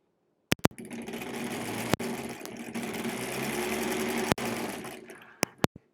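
A 1938 Kenmore model 38 sewing machine stitching in one steady run of mechanical whirring, bracketed by sharp clicks and thumps at start and end, close and moderately loud.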